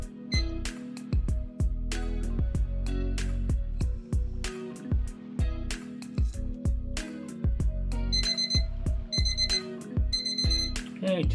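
A kitchen timer alarm rings while jasmine green tea steeps, a loud, fast repeating electronic beeping pattern that pulses in regular bursts, ringing alone for about eleven seconds.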